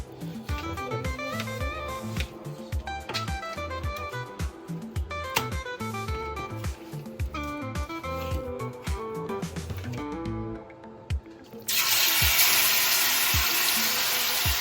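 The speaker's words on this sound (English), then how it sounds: "we're gonna fry up this pork a little bit" Pieces of pork, cured with vinegar and cut with the fat left on, sizzle and fry in a pan with a steady crackle and scattered pops, joined briefly by a rushing burst of louder hiss near the end.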